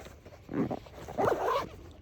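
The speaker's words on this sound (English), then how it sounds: "Pulling the zipper fully down does make it slower." A zipper on a 945 Industries Morph is pulled fully down in two quick rasping strokes, close and fairly loud, with a short pause between them.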